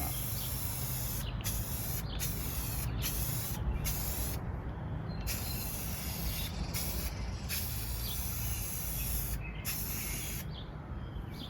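Gloss black paint hisses steadily from a spray can for several seconds, with a few brief pauses in the spray, close and alone without talk.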